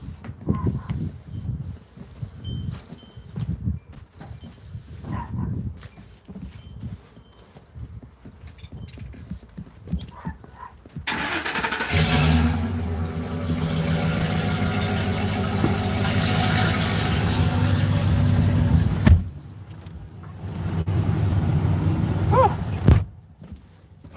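A truck engine cranks and catches about halfway through, then settles into a steady, rumbling idle with hiss, after a stretch of quieter shuffling and knocks; the engine cuts off briefly near the end and then runs again.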